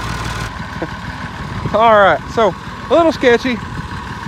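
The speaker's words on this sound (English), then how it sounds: "Move the truck forward a little bit, pick it up and slide it." Truck engine idling low and steady while the truck is eased forward during a chained pull, a low rumble running under a man's speech.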